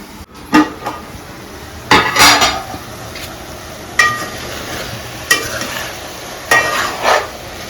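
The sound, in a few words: ridge gourd and chana dal curry cooking in a pan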